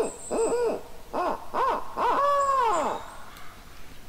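Owl caller in the hunting game theHunter sounds a series of hoots: three short rising-falling calls followed by a longer drawn-out hoot, loud and close with no talking.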